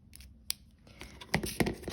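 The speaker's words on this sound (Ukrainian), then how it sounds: "по контуру вирізаю." Scissors cut paper along a drawn line while making a paper Christmas tree decoration, giving several crisp, close snips in an irregular rhythm that grow louder toward the end.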